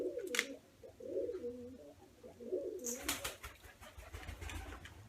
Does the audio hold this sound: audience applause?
no